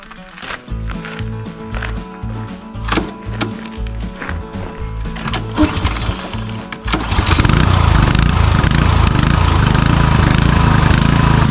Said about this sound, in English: Going to go ahead and crank it up and take it up the hill and see how it does.